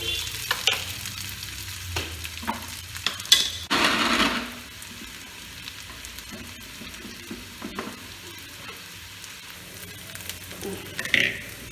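Onions fry in a pan for a chicken with raw mango dish, a soft steady sizzle with scattered stirring scrapes and a louder burst of crackle near the start, no one talking.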